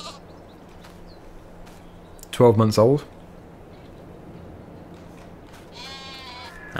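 A ram in Farming Simulator 22 lets out one loud, close bleat of under a second, surrounded by quiet ambient farm noise and a voice talking.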